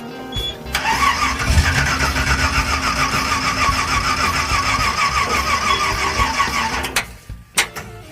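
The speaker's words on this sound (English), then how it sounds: "Remarkably, the engine doesn't want to run." A 1974 Chevrolet Malibu engine cranks steadily for about six seconds without catching, loud and close, with the starter's rhythmic churn ending abruptly and a couple of clunks after.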